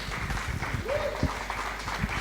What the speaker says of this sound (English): Please, ladies and gentlemen, a round of applause for our very first speaker, Nelly Ating.